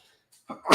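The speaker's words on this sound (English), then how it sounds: "Oh, the sneezing." A single sneeze bursts out close by after near silence, a brief intake of breath followed by a sharp explosive release.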